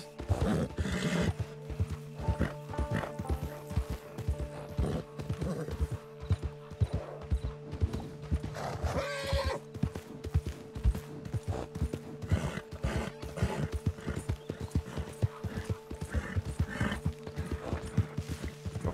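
A horse in Red Dead Redemption 2 Online gallops with steady, dense clip-clop hoofbeats throughout, broken by a whinnying neigh partway through, loud and close.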